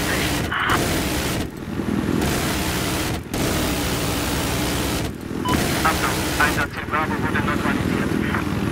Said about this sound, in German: Mein Gott, der Heli hat mich gesehen.